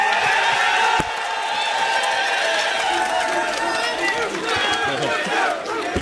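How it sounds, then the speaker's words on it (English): At a Yu-Gi-Oh! European Championship final in Berlin, a large crowd erupts into loud, sustained cheering, whooping and shouting as the trophy is lifted, with a sharp bang at the start and voices mixed throughout. "The crowd are going insane here,"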